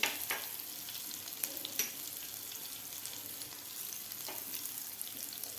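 Finely cut chili and turmeric fry in a pan for spicy jeera aloo, a soft steady crackling sizzle punctuated by occasional sharp scrapes and taps of stirring.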